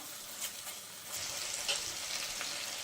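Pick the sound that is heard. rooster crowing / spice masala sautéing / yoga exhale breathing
spice masala sautéing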